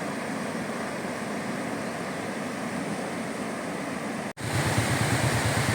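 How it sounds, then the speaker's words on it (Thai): Water rushing hard in a channel fed by the Nam Theun 2 dam among rice fields in Khammouane, Laos: a dense, steady roar, close and continuous, with a brief dip near the end before it resumes. "น้ำไหลแรงมากครับ"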